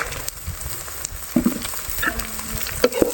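Green onions fry with ginger-garlic paste in a pan, a continuous close sizzle broken by stirring knocks and scrapes of a spoon against the pan.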